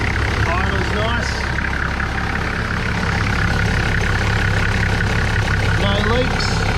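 Toyota Landcruiser with a 1HZ diesel engine and a high-mount turbo idling steadily close by, an even low rumble throughout, with faint voices over it.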